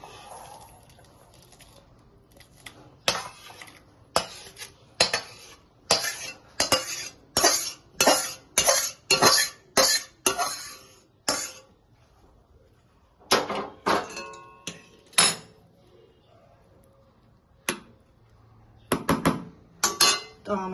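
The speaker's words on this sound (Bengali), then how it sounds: "এবার আমি একটা পাত্রে ঢেলে নিই ডাল চচ্চড়িটা।" A spoon scrapes and clinks repeatedly against metal as spiced mashed red lentils are scooped from a cooking pan into another pot, a steady run of close, sharp strokes that pauses, then resumes in short irregular bursts.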